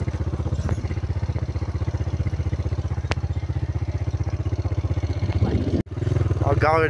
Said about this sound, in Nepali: अगाडि कुदिरहेछ एउटा बाइक, ठुलो बुङ बुङ ठुलो उडाउँदै।